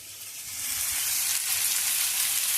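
Onion, garlic, ginger and green chillies fry steadily in a pan for a Bengali muri ghonto, giving a continuous close hiss and sizzle that swells slightly after the start, with no talking.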